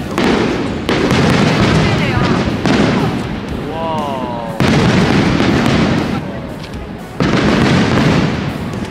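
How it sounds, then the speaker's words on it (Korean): Fireworks burst over Singapore in loud, dense booms and crackles, separate volleys starting abruptly one after another while people exclaim and whistle in amazement. "와, 갑자기 이렇게 불꽃놀이를."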